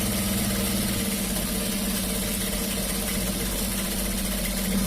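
A sewing machine stitches the edge of a shirt collar with a steady, continuous mechanical hum and fast rhythmic stitching close by, and no talking.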